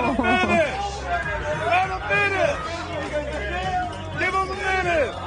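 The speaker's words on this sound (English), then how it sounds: "You can hear the crowd chanting for them to let them finish up." Football fans at an Eagles game chant together in a rhythmic, repeated call, with loud voices rising and falling in a pattern that returns several times over a few seconds.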